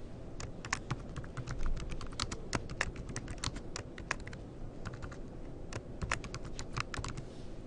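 Typing on a computer keyboard: a quick, irregular run of crisp key clicks, close and moderately quiet, continuing alone without any voice.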